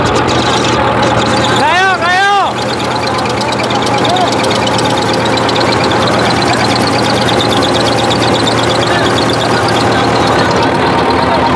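A tractor engine runs steadily at a field tractor-pulling competition, a loud continuous rumble that lasts throughout. Voices talk over it near the start.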